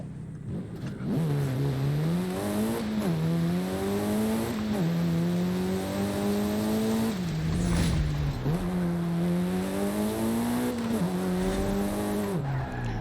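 A 2004 rally car in Forza Horizon 5, racing at night in the rain, revs hard and loud, its engine note climbing and dropping through repeated gear changes, with tire squeal under it.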